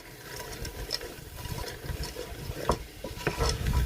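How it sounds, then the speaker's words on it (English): Frozen vegetables are stirred in a hot pan, giving a continuous scraping, sizzling cooking noise with small clinks and shuffles of the spoon throughout. "With all of that in there, stir it."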